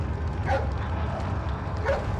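A dog gives two short barks in the Resident Evil 4 video game, one near the start and one near the end, over a low rumbling background.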